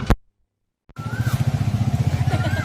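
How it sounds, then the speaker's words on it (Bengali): A motorcycle engine, ridden with the front wheel lifting, starts after a near-silent pause and holds a loud, close, pulsing rumble to the end. "রাইডার হয়ে যাচ্ছি, আগের চাকা উঠে যাচ্ছে।"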